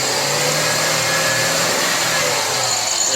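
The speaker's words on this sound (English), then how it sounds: "Let's rev it up." A Jeep Grand Cherokee WJ engine revving after a fuel pump replacement, a loud, steady, close mechanical roar with a dense broadband hum that holds high throughout.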